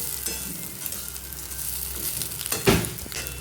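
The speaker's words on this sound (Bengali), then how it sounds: "3 থেকে 4 মিনিট ভেজে নেব" Rice coated in marinated spices and paneer fries on low flame in a pan for pilaf, a steady close sizzle with a louder scrape of stirring near the end.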